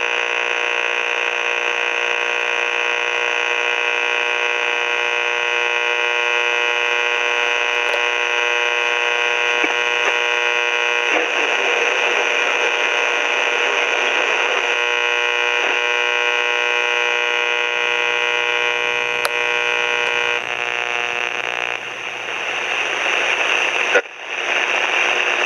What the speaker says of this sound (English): You guys notice that big, humming sound? That's the regular airwaves at night.